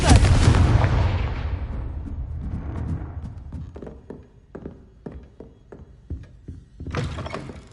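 A Confringo fire spell in Hogwarts Legacy goes off as a loud, booming blast that decays over about two seconds, followed by scattered sharp thuds and cracks and a second bright burst near the end.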